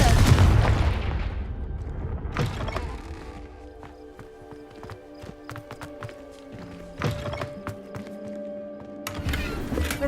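A Confringo fire spell explosion in the Hogwarts Legacy video game, with a loud booming blast at the start followed by softer thuds, a sustained tonal hum and scattered sharp impacts.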